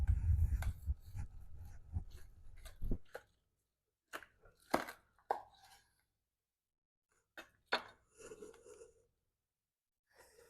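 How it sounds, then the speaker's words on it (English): A knife cuts into smoked beef dino ribs, with close, crackly slicing and tearing of the bark in bursts, then scattered quieter cuts separated by near silence. "Now let's go ahead and cut into this rib here."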